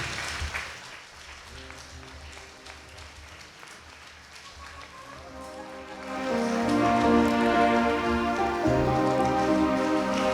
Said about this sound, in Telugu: అందరూ చప్పట్లు కొట్టి అభినందిద్దామండి